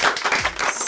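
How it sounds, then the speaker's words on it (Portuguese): Clapping from a small studio audience at the end of a talk-show interview, a short burst of brisk, close applause with no voices over it. "Salve de palmas"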